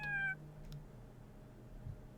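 A short cartoonish cat meow in a cat-finding video game, a clear rising call at the start over soft game music, followed by a quieter background hum.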